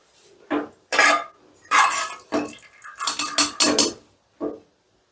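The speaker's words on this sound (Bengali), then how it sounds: "এবারে আমি ঢাকনাটা খুলে দেখে নিচ্ছি ডালটা ঠিকঠাক সেদ্ধ" Opening a pressure cooker lid after the pressure has released, a series of separate metallic clanks and rattles, close and fairly loud, with quiet gaps between them.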